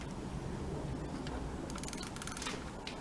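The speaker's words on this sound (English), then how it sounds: "I'm gonna take the filter off, the oil filter off, and I'm using the ratchet" A ratchet clicks in quick bursts while loosening the oil filter on a Volvo petrol car, the dense pawl clicks faint and close with no talk.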